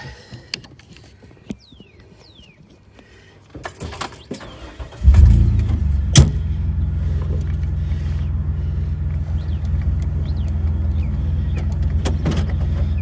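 A Jeep stuck in sand has its winch tighten while in drive: faint clicks and clatter first, then a loud engine rumble that starts abruptly and holds steady and close to the end, with a sharp knock partway through.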